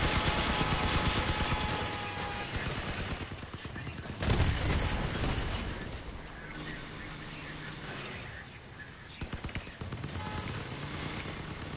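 Machine gun and minigun fire in a video game, sustained rapid automatic bursts rattling almost continuously, loud and near, with a heavier blast partway through.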